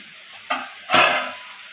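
Spices with turmeric are stirred and fried in a pan, a short scrape followed by a louder burst of sizzle that quickly fades back to a low hiss.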